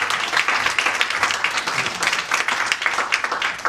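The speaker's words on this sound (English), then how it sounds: "can we give these guys a round of applause?" An audience claps steadily through a motivational talk, a dense even patter of many hands that holds at constant strength with no voices over it.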